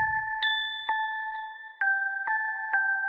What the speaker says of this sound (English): Ding dong, time to die.